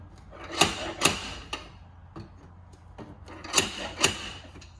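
Stud welder spotting pins onto a damaged VW Passat 240 BiTurbo TDI R Line body panel in a repair workshop: four sharp crackling zaps in two pairs, with quieter clicks between them.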